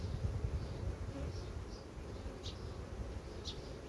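Honey bees drone in a thick, continuous low buzz while a frame is lifted from a nucleus hive during queen cell checks, with a few brief higher chirps rising over the steady hum.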